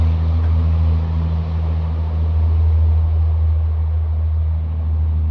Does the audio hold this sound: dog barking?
no